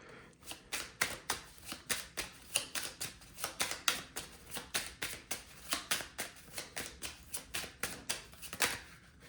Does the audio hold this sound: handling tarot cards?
yes